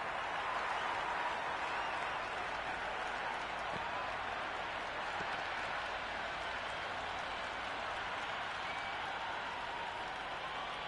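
A raucous crowd at a T20 cricket exhibition match roars as a steady, distant wall of noise, unbroken and fairly quiet throughout.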